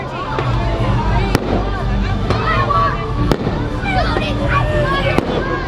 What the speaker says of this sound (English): just about ready to watch some fireworks